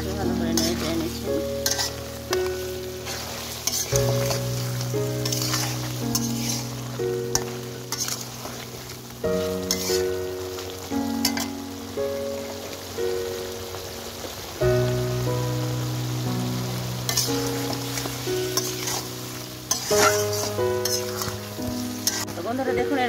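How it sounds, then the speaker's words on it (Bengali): Spiced mutton curry with cumin powder fries in a pan under a constant sizzle, while a spoon scrapes and taps the pan repeatedly in irregular bursts, with background music underneath. "এখানে কাঁচা জিরে গুঁড়ো দিয়ে দিলাম 2 টেবিল চামচ পরিমাণ। ভালো করে নেড়ে নিচ্ছি।"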